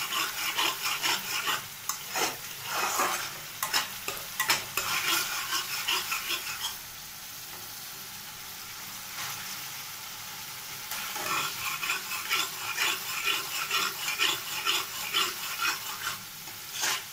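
Masala spices fried in a pan for a boal fish curry, with repeated scraping strokes of a spatula over a steady low sizzle and a short quieter pause in the middle.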